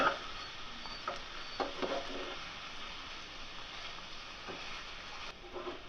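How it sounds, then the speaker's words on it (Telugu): Chicken pieces fried in oil are turned in a pan for restaurant-style dum biryani, giving a steady close sizzle with occasional scraping stir strokes and no talk. "అడుగు మాడకుండా చికెన్ ముక్కలు ఆ విధంగా తిప్పుకోవాలి"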